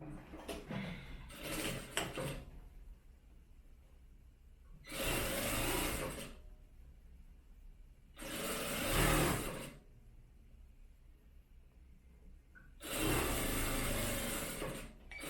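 A sewing machine stitches along folded fabric in four separate bursts of a few seconds each, a close, rapid whirring with quiet pauses in between.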